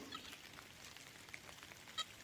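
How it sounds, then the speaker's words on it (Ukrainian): Light rain begins falling in a forest, a faint hiss with sparse soft drops pattering on leaves, quiet and with no one talking. "Дощ пішов."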